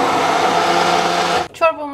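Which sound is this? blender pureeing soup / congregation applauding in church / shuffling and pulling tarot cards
blender pureeing soup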